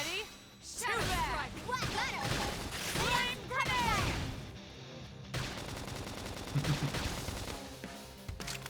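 Gunfire and shooting in the video game Xenoblade Chronicles X, with repeated bursts of shots and impacts mixed among game voices and music, loud and busy throughout.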